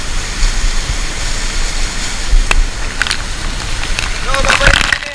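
A continuous loud roar of water from the powerful Hulugan Falls in Laguna pours on without pause, with scattered crackling splashes and a few snatches of voices rising over the rush near the end.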